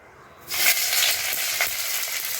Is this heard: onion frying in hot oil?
yes